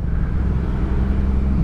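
An oncoming truck passes a Yamaha Aerox 2023 scooter on a busy city road, a steady loud engine and road roar filling the scene throughout without a clear rise or fall.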